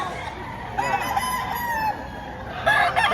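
A rooster crows close by in a long, strained call, followed by a second crow starting near the end, with faint background noise.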